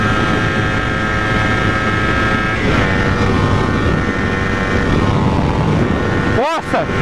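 A Kawasaki Ninja 250R motorcycle engine runs in fifth gear at speed, a loud, steady high-revving drone under heavy wind rush, its pitch sliding slightly midway and dipping briefly near the end.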